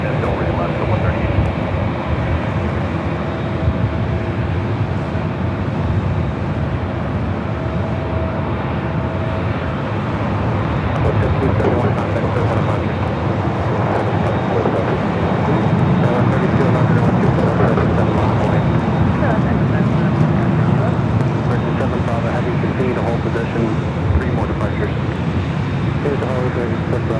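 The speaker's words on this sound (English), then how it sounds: "Foster 138, 1250, 11 on Del Rey, runway 24 left, full length, clear for takeoff." At Los Angeles International Airport, an airplane takes off from runway 24 left, its engine roar building into a broad, steady rumble heard from a distance, with radio voices talking over it.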